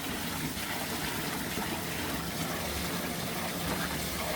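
Water pours steadily onto a waterwheel generator that drives a washing machine stator, making a continuous, even rushing and splashing with no breaks and no voices.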